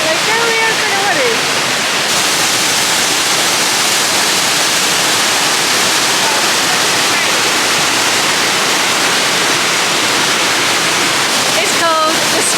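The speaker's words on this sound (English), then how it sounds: "It's a beautiful waterfall." A waterfall near Machu Picchu roars as a loud, dense, unbroken rush close by, with voices faintly audible under the noise at the start and end.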